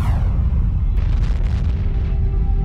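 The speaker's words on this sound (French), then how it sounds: "une énorme étoile, explose" A giant star exploding is rendered as a deep, sustained rumbling boom that fills the low end and rolls on continuously, with a faint whooshing shimmer layered over it.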